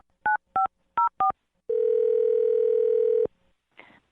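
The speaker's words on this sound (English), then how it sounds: "I'm going to dial her phone number right now." Four quick telephone keypad tones beep in an uneven rhythm, followed by a long steady tone lasting about a second and a half, then a brief burst of noise at the end.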